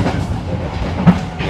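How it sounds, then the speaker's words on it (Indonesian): The Kutojaya Utara extra passenger train runs on rails toward Pasar Senen station in Jakarta, giving a steady close rumble heard from on board with a single sharp wheel clack partway through. "Kereta Kuto Jaya tambahan akan tiba di tujuan akhir stasiun Pasar Senen."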